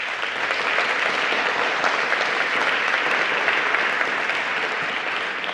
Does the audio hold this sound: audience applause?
yes